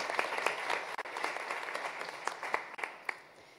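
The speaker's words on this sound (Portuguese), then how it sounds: "Uma salva de palmas para ele." Audience applause rings out at a Brazilian human rights event, a dense steady wash of clapping from a crowd, close and sustained for a few seconds with no voices over it.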